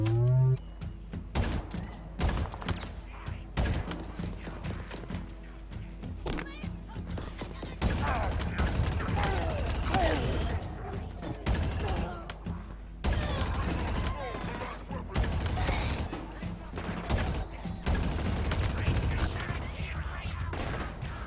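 Gunfire in the shooter Halo Infinite, dense bursts of rapid automatic shots and fusillades running almost continuously, loud and close, with occasional thuds and voices talking over the action.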